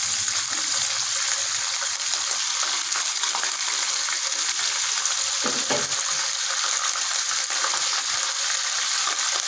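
Mutton kofta frying in a pan of hot oil, a dense continuous sizzle that stays loud and even throughout with a faint scrape or two underneath.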